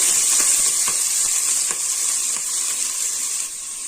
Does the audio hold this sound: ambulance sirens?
no